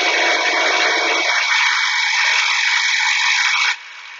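A jointer knife is ground on a Shopsmith grinding wheel, giving a loud, steady, close-up hiss of abrasive grinding that cuts off abruptly near the end, leaving a quieter hum.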